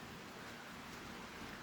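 Light rain falls in a town, a soft, even hiss of drops that stays faint and constant, with no voices.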